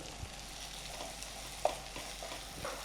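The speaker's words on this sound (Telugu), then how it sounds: "ఇది మీడియం ఫ్లేమ్ మీద ఫ్రై చేయండి, మంచిగా ఫ్రై అవుతుంది." Ginger garlic paste frying in a pan over a medium flame, giving a faint, steady sizzle with a few soft stirring clicks and one brief sharper tap.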